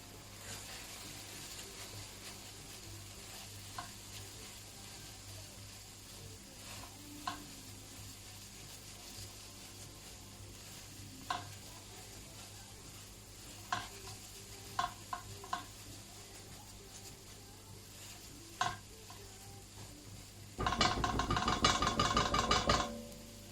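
Garam masala and turmeric sit in a quiet pan with scattered single taps and scrapes, then a burst of brisk, loud stirring and rattling near the end; no one speaks.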